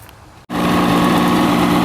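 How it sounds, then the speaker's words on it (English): A 1976 Mercury inline outboard motor starts and keeps running while it warms up, a loud, steady, close mechanical drone with a brief gap before it catches. "you want to start up your motor, let it warm up"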